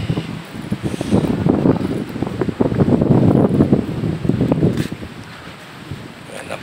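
Wind gusts blow across Sampaloc Lake in San Pablo, Laguna, buffeting the microphone in loud, uneven rushes that swell and fade over several seconds, with no voices.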